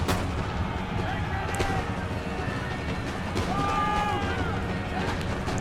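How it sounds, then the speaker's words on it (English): Militia musket fire poured nonstop into a fort in Empire Total War: a steady, dense crackle of distant volleys and booms under a constant battlefield rumble, with no pauses. "The militia firing non-stop rounds into the fort."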